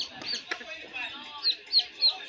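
Pet chicken clucking in a short series of clipped, bright calls near the listener, with several evenly spaced clucks toward the end and a voice speaking briefly at the start.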